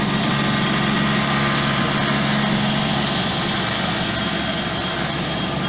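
A lathe spinning at about 1360 RPM turns a polyurethane urethane bushing, giving a steady, loud motor hum with a constant low drone and unbroken whir throughout and no talking.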